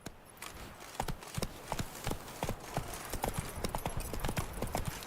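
Roach the horse galloping in The Witcher 3 video game, a quick, even run of hoofbeats on the ground, moderately close and fairly quiet, with no speech over it.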